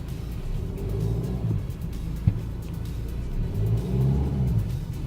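BMW X4 with xDrive reversing off-road, engine whirring and rumbling steadily at low revs with a faint mid-clip knock and slight rise toward the end, close and continuous with no talking.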